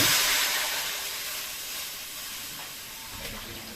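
Water poured into a pot over leftover fried onions makes a loud steaming hiss and sizzle that slowly fades over a few seconds, close by and alone.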